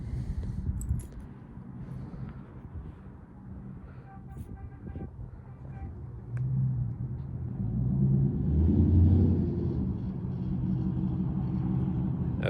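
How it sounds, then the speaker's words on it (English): A sports car approaches on a road, its low rumble swelling to a close pass and then fading, with faint voices at the start. "Hold on, there's a car coming."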